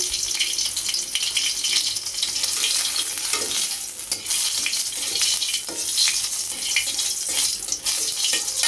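Dried chillies sizzling and frying in a hot pan, with continuous crackling, hissing and stirring scrapes through the whole stretch; no voices are heard.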